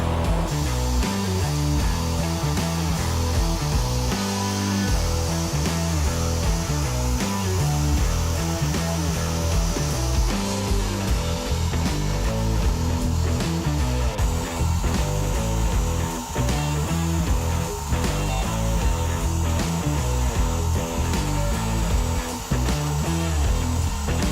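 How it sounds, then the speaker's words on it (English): CNC router with a V-carve bit cutting into wood for a child's height ruler, a steady, loud, continuous machine whine with shifting tonal grinding throughout, no talking. "So we're going to use the V-carve bit right now."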